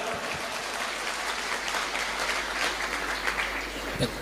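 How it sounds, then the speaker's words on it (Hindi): An audience claps at a live Rajasthani comedy show, giving steady, dense applause that lasts the whole stretch without any talking. "ताली बजाओ एक बार"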